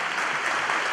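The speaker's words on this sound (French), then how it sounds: "Donnons un applaudissement à la Fondation internationale Maria Luisa." A church congregation applauds at the inauguration of the Church of San Andres, a dense, steady burst of clapping that stays loud and even throughout the short moment.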